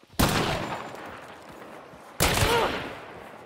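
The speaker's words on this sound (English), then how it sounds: "Shoot under the house, crouch and shoot him from underneath" Two loud bursts of video game gunfire, each a sharp crack that trails off into a rolling echo, about two seconds apart, with no talking.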